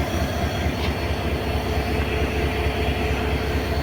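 A passenger train locomotive idles at a Bangladeshi border railway station, heard as a steady, loud low rumble and engine drone that holds evenly throughout with no voices.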